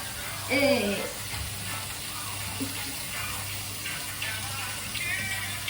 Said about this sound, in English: This bacon's cooking nice and good.